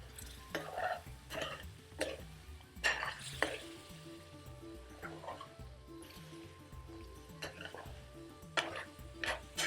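King prawns stirred through a thick caramelised curry gravy in a pan, soft sizzling under repeated scraping strokes of a utensil and a few clinks against the pan, close and fairly quiet.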